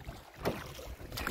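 A small rowboat moves on choppy, splashing water in gusty wind, with a couple of soft splashes over steady wind buffeting the microphone, all fairly faint and without talking.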